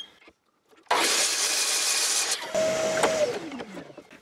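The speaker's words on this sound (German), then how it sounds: "Schneiden wir wieder die Spitzen ab." A saw cuts the end off a wooden strip for a homemade finger hockey board, a short burst of harsh, steady cutting after a brief quiet start, close and loud, dying away with a fading whine.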